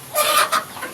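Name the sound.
free-range kampung chickens clucking in a coop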